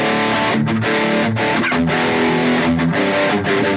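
An electric guitar played through a Blackstar ID:Core 20 amp with a distorted metal tone, loud chugging chords with brief muted gaps between them.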